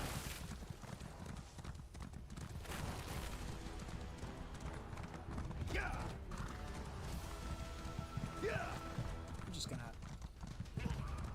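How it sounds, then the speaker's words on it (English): Horse hooves galloping in the video game Elder Scrolls Online, a fast, continuous clip-clop rhythm with occasional whinnies and a voice talking over it. "I'm just gonna run past everybody on my horse."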